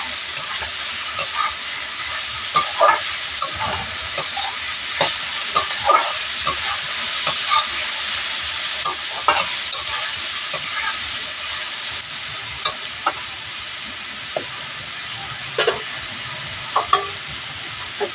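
Chopped onions frying in a pan and being stirred, a loud continuous hiss and sizzle broken by frequent sharp scrapes and clicks of the spoon against the pan, no talking.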